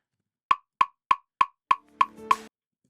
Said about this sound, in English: So that's the click. So I can literally got double time click.